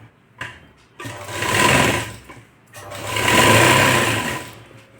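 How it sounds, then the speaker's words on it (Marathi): A sewing machine stitches a canvas waistband strip for a blouse neck, running in two loud whirring bursts of about a second and a half each, with a short pause and a few soft clicks in between. "फिटिंग पट्टीची पाव इंचावर शिवून घेतली"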